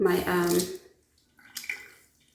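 A voice is heard, then a short burst of running water wets natural hair already coated with conditioner and oil, fading out quickly.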